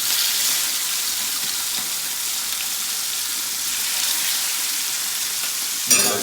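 Kingfish (surmai) slices fry in a hot pan, giving a steady, loud broadband sizzle that runs unbroken throughout, with a brief clatter near the end.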